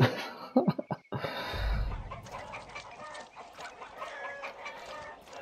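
A chicken clucks in several quick, close bursts near the start, followed by softer continued clucking and rustling ambience.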